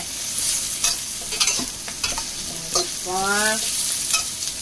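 Carrots and a chili sautéed in a hot pan, a soft steady sizzle broken by several scraping stirs of a utensil against the pan, with no talking.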